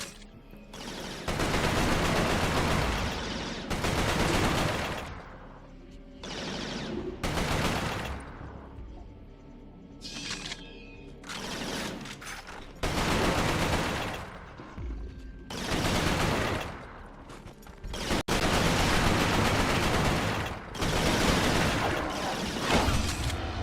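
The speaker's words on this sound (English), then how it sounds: "The rifle looks like a M14." Bursts of video game rifle fire from an M14-style weapon, loud rapid volleys repeating in clusters of a second or two with brief pauses between them, up close and with no talking over them.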